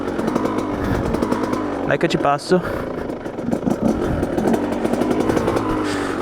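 A cold motorcycle engine, unused for three weeks, runs with a rough buzzing rev close by. Someone talks over it, and a brief mechanical rattle sounds partway through.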